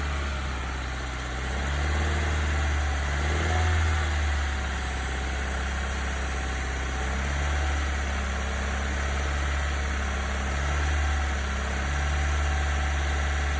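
A car engine idles steadily and is then raised to about 2,000 RPM during MAP and MAF sensor testing, a low continuous hum that swells slightly before settling, heard alone without talk.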